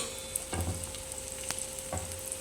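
Onions cook in a pan for a potato curry as cut green chillies go in, giving a soft continuous sizzle broken by two or three clinks and scrapes of a stirring utensil.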